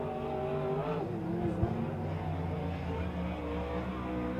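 Race car at Silver Dollar Speedway lapping the track during Silver Cup time trials, its engine a loud, steady roar with harmonic whine throughout and a brief surge mid-lap, no voices over it.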